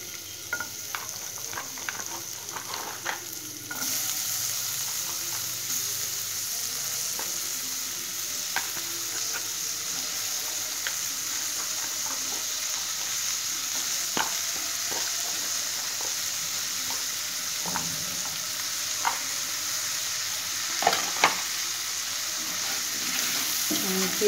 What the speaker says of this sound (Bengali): পেঁয়াজটা তাড়াতাড়ি যেন ভাজাটা হয়ে যায়,